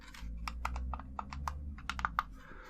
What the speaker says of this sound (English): If your buttons don't make the clicking sound